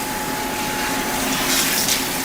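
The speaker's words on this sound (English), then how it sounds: "And now I'm rinsing out your conditioner, right?" Shower water running steadily over hair as conditioner is rinsed out of 4C curls, a continuous close hiss and splash with a slight swell near the end, no talking.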